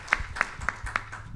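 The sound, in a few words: applause for the session president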